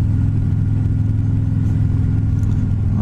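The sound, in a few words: Harley-Davidson Street Glide Special motorcycle engine, throttle twisted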